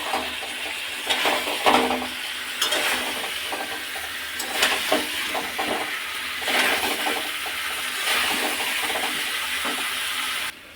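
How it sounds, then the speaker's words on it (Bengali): Fried potatoes stirred into hot masala in a pan for a Bengali curry, giving a steady broadband sizzle and hiss with scattered scraping bursts of stirring, close and continuous, with no talk. "মশলার সাথে আর একটু কষিয়ে নেব"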